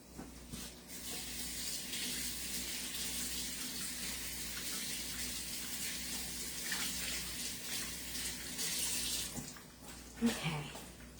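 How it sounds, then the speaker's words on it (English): Tap water running steadily into a kitchen sink while hands are washed, a close, continuous splashing hiss that breaks off near the end with a short clatter. "Let me wash my hands."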